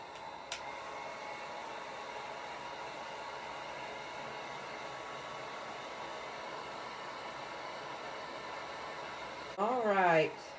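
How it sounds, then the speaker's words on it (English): A heat gun blows a steady, even airy roar over a bubbled craft surface on a shabby chic cross, holding constant throughout before a brief louder burst of whooshing near the end. "I'm going to take the heat gun again and go over it again"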